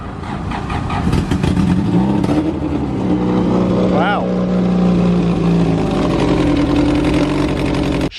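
A car engine in a shop is cranked after sitting unused for a couple of months, catching and settling into a rough, steady running drone with a brief rising whine midway; a voice speaks over it.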